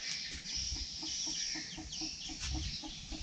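Hens and chicks in a countryside coop where a hen has been brooding eggs, giving a steady run of soft, rhythmic clucks close by with high chick peeps over them, no talking.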